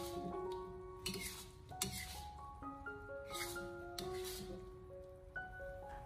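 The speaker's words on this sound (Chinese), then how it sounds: "再用锅铲给它立刻的翻炒一下，把它翻炒均匀，避免粉浆结块。" A wok spatula scraping and clinking against a wok while stir-frying taro with batter for Cantonese taro cake, with steady soft stirring and scattered metallic chinks, fairly quiet, with no talking.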